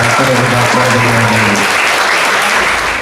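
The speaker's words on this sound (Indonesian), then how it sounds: "Kita sambut dengan tepuk tangan yang meriah Ibu Marta Suherman." Loud, dense applause from a crowd, sustained clapping that fades slightly at the end.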